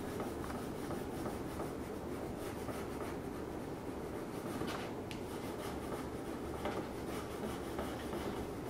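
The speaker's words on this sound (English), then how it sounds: "So you just go along here and scrape off the surplus." A tool scraping surplus French polish off a wood surface, a close, continuous rasping rub with faint repeated strokes and a couple of sharper scrapes.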